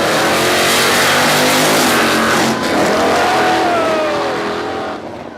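A roots-type supercharger on a car, loud and close, gives a deep mechanical whine that rises and sweeps in pitch as the engine revs, then fades slightly at the end.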